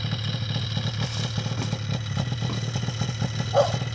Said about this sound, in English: Remy's ready to go for a snow machine ride.